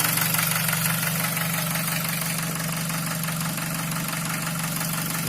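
Nissan QG18DE car engine idling at operating temperature, a steady, even hum with a constant low drone and faint rhythmic ticking running unbroken throughout, close and alone with no talk.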